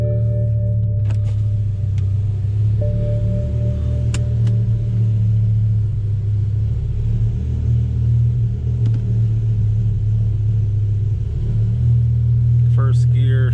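A BMW E60 M5 rumbles close and steady as it pulls out, its deep engine drone holding throughout with a slight swell near the end, while voices murmur faintly in the background.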